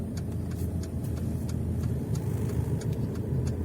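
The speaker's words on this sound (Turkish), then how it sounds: "Duyduğunuz gibi vitesimizi değiştiriyoruz." A car engine runs steadily at a driving test during a manual gear change, a low continuous hum with slight rises and falls and faint ticking on top, no one talking.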